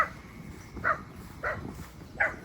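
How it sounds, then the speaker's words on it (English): A dog barks in short, sharp bursts, four barks spaced about half a second apart, moderately close. "where are you barking at?"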